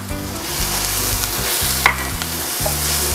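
Crushed lemongrass sizzles steadily in a hot pan, with a metal utensil stirring and scraping through it in repeated strokes and a couple of brief clinks, loud and close.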